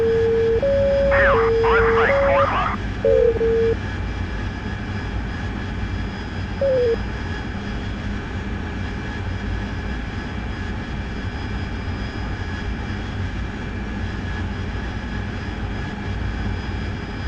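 Inside the DCS World flight game, a jet aircraft engine in flight gives a steady, even drone from start to finish. Several short electronic tones and cockpit beeps sound early on, over the constant engine noise. There is no talk.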